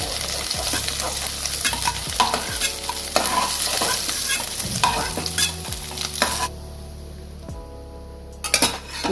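Paneer posto fries in a pan with a steady sizzle while a spoon stirs and scrapes against the metal in repeated clinks. Near the end the sizzle drops away, leaving a few sharp knocks.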